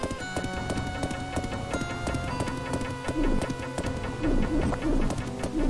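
Horse hooves clip-clop rhythmically while riding in the Sega game Dahna Megami Tanjo, a steady galloping beat under loud retro game music, continuous and close.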